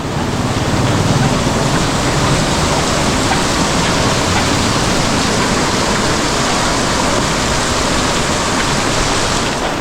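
Heavy rain pours down steadily with a dense roar of rushing floodwater, loud and continuous throughout, like runoff surging nearby.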